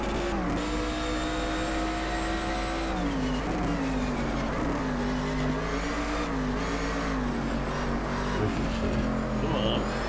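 Race cars in the GT Legends racing video game, engines droning steadily and loudly throughout with shifting pitch as they accelerate, no talking.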